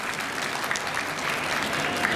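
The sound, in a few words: audience applause for the teachers at a freshers party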